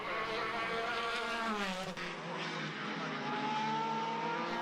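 Formula race cars on a circuit in a Formula BOSS Ireland race, a loud continuous high engine scream with rising and falling pitch as the cars pass close by.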